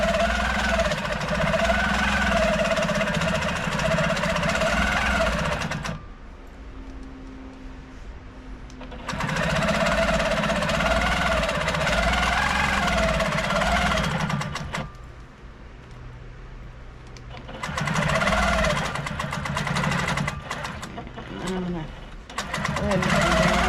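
Sewing machine tacking stabilizer to the batting and backing of a quilted shopping tote, running in long loud whirring stretches separated by quieter pauses, with a voice talking throughout.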